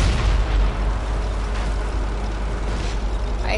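Dense, rumbling artillery explosions roll continuously through a tank video game. The booming is loud and sustained with no clear gaps, and it fills the whole stretch.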